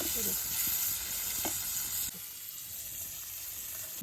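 A pomfret fish fries in a pan with a continuous close sizzle, a few soft knocks as it is turned over, and the sizzle drops slightly after the flip.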